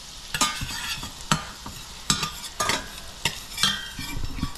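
Garlic frying in butter gets stirred with a utensil, sending out sizzling bursts of scraping at an irregular rhythm, loud and close. Quieter gaps fall between the stirs.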